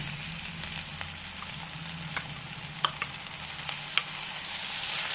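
Mint paste stir-fries over a medium flame in a pan for pulao. The soft, steady sizzle is broken by occasional light clicks and scrapes from stirring, and no one speaks.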